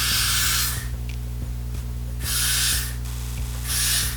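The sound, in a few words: spraying Got to Be Spritz hair spray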